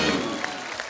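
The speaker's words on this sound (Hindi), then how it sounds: "एक बार जोरदार तालियां हो जाए आपके फैंस यहाँ पे।" A studio audience on a Hindi TV comedy show applauds a singer, a short burst of clapping that fades as the second ends, with faint voices underneath.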